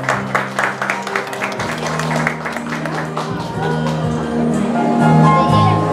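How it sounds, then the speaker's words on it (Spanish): Guests at a quinceañera applaud a couple as music with a steady beat and low bass plays, the clapping most distinct early on and then blending under the music. "Fuerte el aplauso para la segunda pareja."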